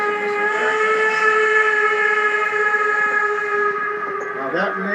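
Strasburg Railroad steam locomotive whistle sounding a long, steady multi-tone chord that carries on for the full stretch, loud and sustained with slight rumble of the train beneath, echoing off surrounding hills.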